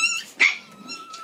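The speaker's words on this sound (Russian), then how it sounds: "Ой, щенки кусают друг друга." Puppies play-fight and bite each other, giving off small high growls, yips and snarls in quick bursts, close and fairly loud, with no talking.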